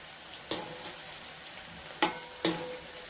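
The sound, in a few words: red chili powder being sautéed in a pan for dal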